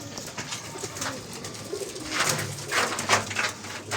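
Pigeons of several breeds coo in a bird enclosure, soft repeated calls rising and fading over a steady background hiss, with no talking.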